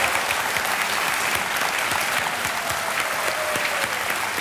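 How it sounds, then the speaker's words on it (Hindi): Studio audience on a Hindi television quiz show (KBC) applauds steadily, a dense, even wash of clapping that holds at full strength throughout. "और तालियां बजती रहें जोर से"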